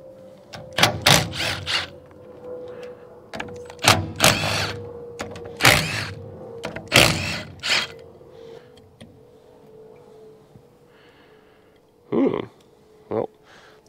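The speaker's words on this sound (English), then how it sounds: "Let's go ahead and pull the top of this filter housing off." The top of a filter housing is pulled off on a used 4x4 diesel JLG man-lift: a run of close, loud clunks, scrapes and mechanical rattles, then quieter pauses and two final sharp knocks.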